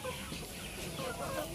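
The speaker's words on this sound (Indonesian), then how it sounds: "Cakep juga ini ayamnya. Ini betina ya." An Indio Gigante hen clucks faintly, low soft calls over a steady noisy background in a rural setting, with no clear talk.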